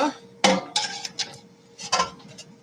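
A spatula scrapes and clanks against an air fryer basket while lifting out a Mexican pizza, with a loud metallic knock followed by several lighter scraping taps, close by.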